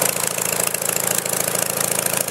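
A small engine runs steadily after its choke is switched off, a loud, close, even idle with a fast pulsing rumble and no voices.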